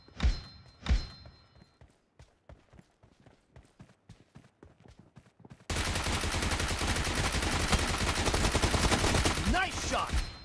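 Gunfire in PUBG during a team deathmatch: a few loud shots open, then a run of sparse single shots, and finally a dense, sustained roar of rapid automatic fire and in-game commotion that fills the rest of the clip.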